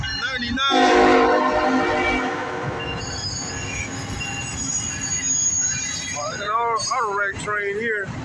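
A southbound CSX autorack freight train rumbles past close by with grinding wheels and squeals, a loud multi-tone horn blaring over the passing cars.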